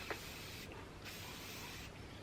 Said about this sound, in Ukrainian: А тепер я буду пшикатись отаким засобом від комарів.